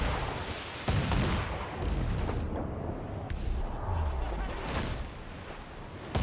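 Repeated booming cannon blasts from Assassin's Creed 4: Black Flag, heavy and rumbling, over a dense backdrop of battle noise.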